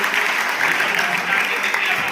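Audience applause welcoming a drama troupe after an anti-addiction play, a dense, steady wash of many hands clapping at close range, with a voice speaking over it.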